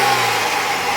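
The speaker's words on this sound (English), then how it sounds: "So, have Trish give it a little bit of revving." A BMW X3 xDrive28i M Sport's 3-liter turbo six-cylinder engine revving, a loud, steady engine roar held for a brief moment, with no talk.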